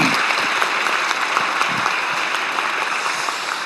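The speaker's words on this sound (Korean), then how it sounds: "박수로 환영합니다." An audience at a Korean ceremony gives a sustained round of applause to welcome young student scientists, with a thick, even patter of many hands clapping throughout.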